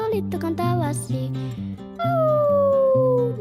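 In a children's animal-sounds song, a voice imitates a wolf howling with rising and long falling wails over a bouncy musical backing, the final howl sliding slowly downward.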